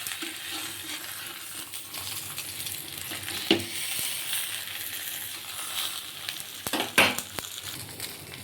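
Bhola fish paturi fries in a pan with a quiet, steady sizzle and crackle, broken by a couple of sharp utensil clinks, with no talking over it.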